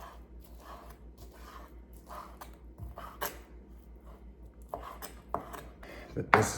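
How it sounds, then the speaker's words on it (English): A knife chops repeatedly on a board in a quick, irregular rhythm, with a few sharper knocks toward the end; close and fairly quiet. "I'm just going to cut it up first, the smaller pieces."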